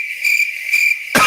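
A cricket chirping sound effect, loud and close, with two or three quick bursts of steady high-pitched trills over a brief stretch, followed by an abrupt noisy cut at the end.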